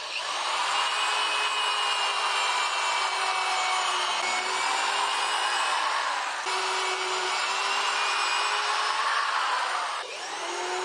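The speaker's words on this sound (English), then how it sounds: "now I'm going to drill the corners" A power drill whines continuously at high pitch, dipping slightly as it bites into wood, with a brief pause before it spins up again.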